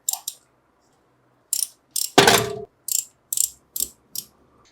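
A ratchet works loose the 8 mm suction filter bolts on a Royal Enfield Electra 350 motorcycle, giving short bursts of sharp close clicks separated by pauses, with one louder clank partway through, and no talking.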